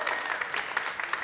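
An audience claps and cheers steadily after an a cappella film festival screening, a dense wash of applause with scattered louder whoops throughout.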